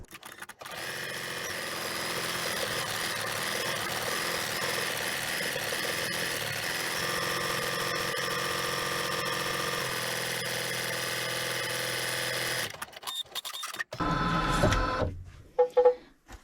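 Embroidery machine stitching a zigzag on quilt fabric for a crazy quilt, a steady loud mechanical whir running continuously for about twelve seconds before stopping, followed by brief handling clatter.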